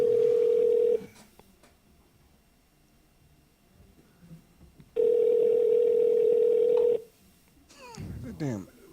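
A telephone ringback tone sounds twice as a steady, loud two-second buzz separated by a long pause, with faint background chatter between rings and a brief rustle at the end.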